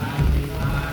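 Steady rain falls during a Buddhist Lent procession, a dense hiss close by and alone for about a second.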